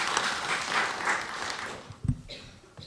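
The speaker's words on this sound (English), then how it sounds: "Big round of applause for this young lady" Applause from a panel-event audience greeting a panelist, a broad wash of clapping that is loudest at the start and fades away, with a few muffled thumps near the end.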